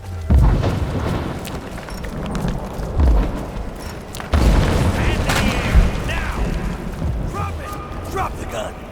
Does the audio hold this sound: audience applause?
no